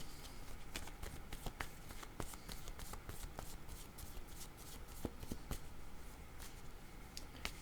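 Tarot cards shuffled by hand in a steady run of crisp riffling clicks and flutters, close and alone, with no talking.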